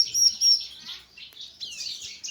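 A bar-winged prinia (ciblek), an older male kept with a breeding pair, chirps in bright high tweets and short trills that come in clusters with brief pauses. The bird is close and clear, with no talking.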